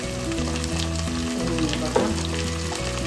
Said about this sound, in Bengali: দালচিনি, তেজপাতা, তিনটে এলাচ, কালো, সবুজ আর গোলমরিচ দিয়ে দিলাম।